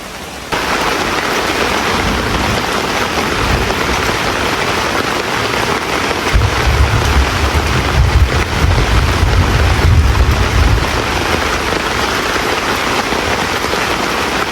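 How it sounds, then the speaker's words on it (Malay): Steady heavy rain drumming on a surface at a campsite in Kanaboi, Negeri Sembilan, loud and continuous throughout, with a deeper low rumble swelling for a few seconds midway. "Keadaan di campsite masih lagi hujan."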